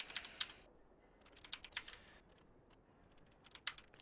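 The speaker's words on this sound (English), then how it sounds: "So type our character name" Quick bursts of keystrokes on a computer keyboard, clustered clicks in short runs separated by brief pauses, close and fairly quiet, with no talking.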